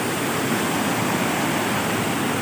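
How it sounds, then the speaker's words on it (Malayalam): A small waterfall at Chothikayam in Kottayam gives a steady, dense rush of falling water, close and loud, with no other sounds. "ഇതേ വെള്ളച്ചാട്ടം കേട്ടോ"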